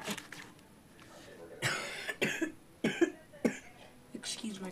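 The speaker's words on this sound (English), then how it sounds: "Excuse my coughing." Several rough, close coughs come in short bursts, some spaced a second apart, with a little throat noise between them.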